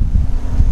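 Wind blows over a lake on a cold day, a loud, steady low roar buffeting the microphone with no voices.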